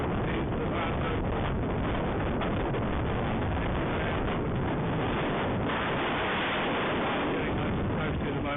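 Strong wind roars across the microphone in a continuous, muffled buffeting, loud and unbroken for the whole stretch, while cycling across open land in the Languedoc.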